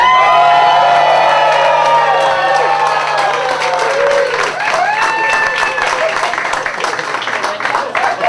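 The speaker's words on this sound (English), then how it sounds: "Everybody, please stand up and cheer." An audience at a limerick festival stands and cheers, loud sustained applause mixed with whoops and shouts, dense and close throughout with no pauses.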